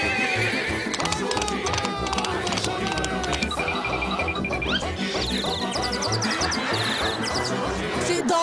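A horse whinnies and neighs repeatedly while its hooves clop in a quick, uneven rhythm close by, loud and continuous throughout with no talking.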